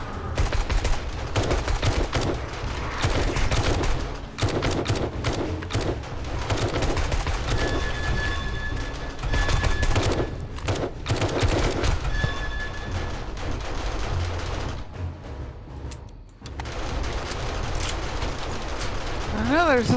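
Rapid gunfire in the zombie survival game 7 Days to Die during a massive horde night, dense repeated bursts and shots rattling on and off for the whole stretch, with a voice talking over it at times.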